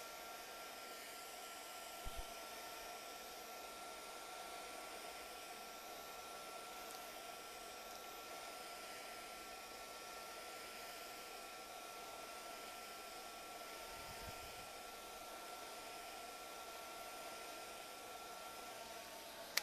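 A hair dryer runs with a steady, even whoosh for about twenty seconds, drying paint on a double switch plate, constant and moderately close with a couple of faint knocks and no talking.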